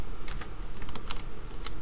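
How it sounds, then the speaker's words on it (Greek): Typing on a computer keyboard while filling in characters on an online registration form, a quick irregular run of light key clicks close to the mic over a low background hum. "αμέσως μετά πληκτρολογούμε τους χαρακτήρες που φαίνονται στο πλαίσιο αυτό"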